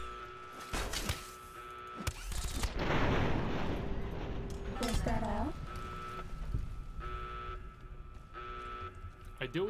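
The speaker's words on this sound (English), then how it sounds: "I do wish the alarm would stop." A blaring alarm in the video game Fallout: New Vegas sounds in repeated pulses, with steady tones cutting in and out, under someone talking and some gunfire-like bursts.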